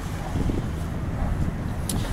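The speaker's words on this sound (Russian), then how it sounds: "Вот уже как раз боковой ветер удачно подул." A crosswind during boat mooring buffets the microphone in a low, rumbling rush, steady with a few stronger swells and no voices.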